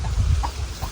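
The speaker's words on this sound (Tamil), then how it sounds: "இந்த கோழி பார்த்திங்கன்னா 3 குஞ்சோடு சுற்றிட்டுருக்கு" A hen ranging with three chicks gives soft, repeated clucks at a steady rhythm, close by, with faint low rustling beneath and no talk.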